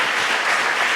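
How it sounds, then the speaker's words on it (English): A brief stretch of dense audience applause at a lighting conference talk, many hands clapping evenly and loudly throughout the moment. "please join me with a quick round of applause for Nick"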